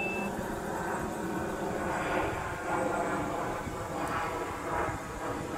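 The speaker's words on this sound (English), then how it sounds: "You couldn't even take the sound of the airplane out?" An airplane flying overhead, heard in the audio of the 2015 film Shark Exorcist, as a continuous rumbling engine drone that holds at a moderate, steady level with slight swells and no dialogue.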